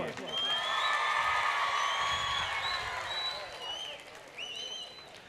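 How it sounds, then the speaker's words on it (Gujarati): A crowd at a motivational speech at Mata no Madh claps and cheers loudly, with whoops and high whistles over the applause. The noise swells early, then gradually fades. "એકવાર જોરદાર તાળીઓ, ચીસો"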